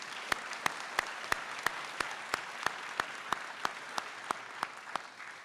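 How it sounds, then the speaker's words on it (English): Audience applause at an optometry college ceremony: a steady wash of crowd clapping punctuated by sharp, evenly spaced individual claps, continuous and moderately loud throughout. "Yeah, you can clap. Let's clap."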